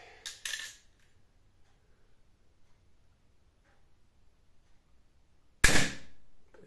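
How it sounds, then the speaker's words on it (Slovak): Sharp shots from a Steambow AR6 Stinger 2 crossbow, a 90 lb draw weight model: two quick cracks close together at the start, then a long quiet pause before a louder snap with a brief ringing tail. "To boli 3 výstrely zo Stingeru 2."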